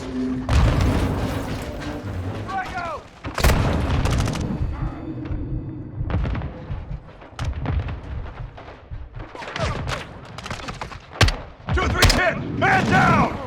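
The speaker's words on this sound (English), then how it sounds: "They're launching grenades!" Grenades exploding during a Call of Duty firefight: repeated booms and bursts of gunfire over a dense battle din, with shouting voices throughout.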